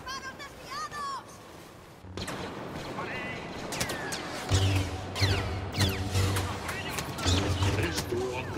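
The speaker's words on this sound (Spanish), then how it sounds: "¡Cuidado con los disparos desviados!" Rapid blaster shots in Star Wars Battlefront zip and crackle in quick bursts amid a busy game soundscape, with people speaking Spanish over the firing.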